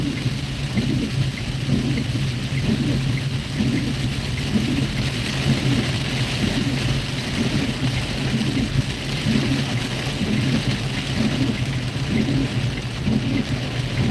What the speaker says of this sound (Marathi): तुम्ही बघू शकता किती जोरदार आणि मुसळधार पाऊस आहे